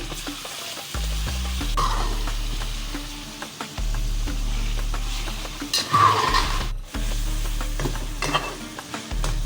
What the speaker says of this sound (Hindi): अच्छी तरह भूनेंगे गोश्त को।